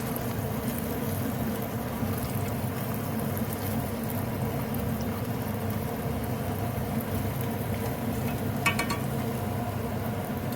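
Bacon lardons and potatoes fry in a pan over a gas burner, producing a constant, dense sizzle and crackle, with a brief metallic scrape near the end.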